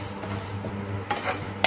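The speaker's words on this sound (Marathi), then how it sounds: "धने भाजूया।" Coriander seeds dry-roasting in a pan as they are stirred, soft rattling and scraping with a few sharper clinks of the spoon against metal, close up and without speech.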